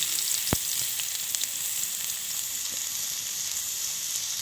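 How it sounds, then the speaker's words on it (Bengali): Chopped onion and garlic frying in hot oil for a dal puri filling, giving a steady close-up sizzle throughout with a single sharp tap early on and faint clinks beneath. "এটাকে আমি সুন্দর করে ভেজে নেব। পেঁয়াজটা লাল হয়ে গেছে।"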